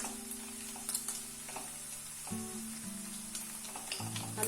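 Prawns frying in a pan for Goan prawn balchão, a steady close sizzle with stirring scrapes and occasional spatter ticks, over a low hum, with no talking.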